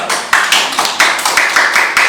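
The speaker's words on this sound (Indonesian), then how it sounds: "Tepuk tangan dulu" A classroom audience claps for a group presentation, a run of sharp, fairly rhythmic hand claps that stays close and steady for about two seconds, with no talking over it.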